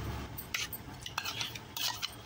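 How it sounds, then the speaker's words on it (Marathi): Semolina and yogurt batter stirred in a pot, a spoon scraping and clinking against the metal in a few short bursts, close and moderately loud with no talking. "टाकून जरा हलवून घेते, मिक्स करून घ्यायचं।"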